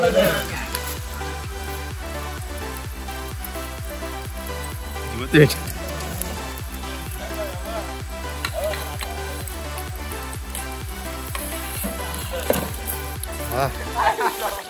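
A freshly caught fish roasts in a pan at an outdoor New Year's Eve party, sizzling and crackling steadily up close while someone talks over it.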